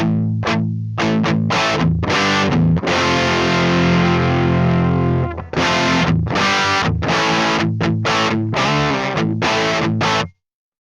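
Heavily distorted electric guitar through a Mesa Boogie Mark IIC+ amp plays loud chugging chords and sustained notes with short stops between phrases, then cuts off abruptly.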